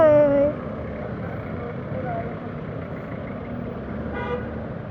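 Road traffic around a scooter rider in city streets: a short car horn toot at the start, then a constant engine and road rumble, with another brief honk near the end and a voice speaking over it.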